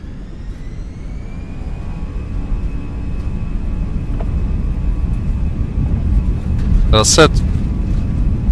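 Airbus A320-232 jet engines spooling up for takeoff in MSFS 2024, a steady rising whine and rumble growing louder, with a brief spoken word and a short radio-like burst partway through.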